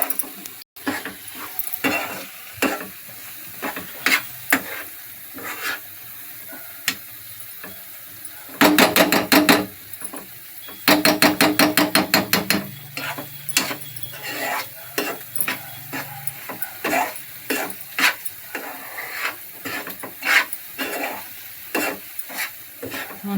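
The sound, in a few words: stirring coconut and jaggery mixture in a pan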